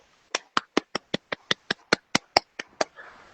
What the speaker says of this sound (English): I clap for my motherfucking self.